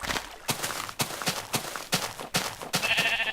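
Minecraft sheep bleats and footsteps, about seven evenly spaced short thuds or calls over roughly three seconds, close and moderately loud, ending in a brief higher tone with no speech.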